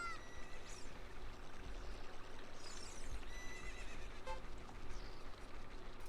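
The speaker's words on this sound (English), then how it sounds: "get on the horse." Horse whinnying in the video game The Legend of Zelda: Ocarina of Time, several bright neighs over a steady ambient background with no talk.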